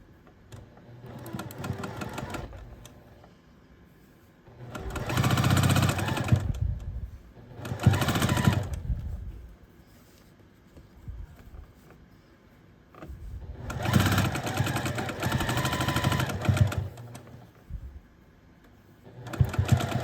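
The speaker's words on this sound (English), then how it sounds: "fold it on top, and then sew this last final seam" A sewing machine stitching the last seam of a foundation paper-pieced scrappy quilt block, running in several short bursts of whirring with quiet pauses between, close and fairly loud.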